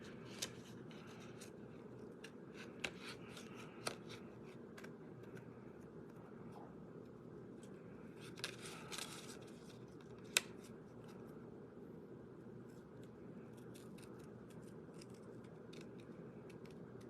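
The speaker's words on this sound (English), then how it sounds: "I am just kind of following it around with the scissors." Scissors snip through paper during a Stampin' Up! card-making class, giving a faint, steady run of quiet cuts with a few sharper clicks, up close and with no talking.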